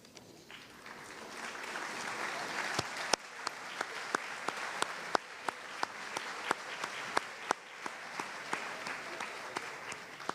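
Audience applauding for graduating seniors at a high school awards ceremony, a sustained round of clapping with several sharp, close hand claps standing out above the crowd at a fairly quick, irregular pace.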